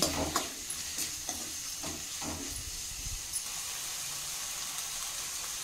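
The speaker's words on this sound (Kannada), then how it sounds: "ಈ ಟೊಮೆಟೊ ಬಾಡ್ಕೊಳ್ತಾ ಇದೆ ಚೆನ್ನಾಗಿ." Tomatoes frying and being stirred in a pan while cooking a rasam, giving a steady close sizzle and hiss with several clear scraping stir strokes early on that fade into continuous frying.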